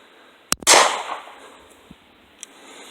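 A couple of sharp, loud gunshots crack at a shooting range, one right after the other, their report ringing out and decaying. Faint clicks follow in the quiet.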